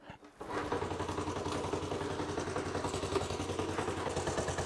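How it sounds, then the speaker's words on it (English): A motorcycle engine catches after a kick start and settles into a steady, loud idle, its rapid even pulsing holding close by for several seconds. "I'll kick this thing over, get it started"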